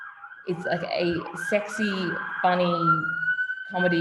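A siren outside, a sustained wailing tone running under a person talking, fairly clear against the voice.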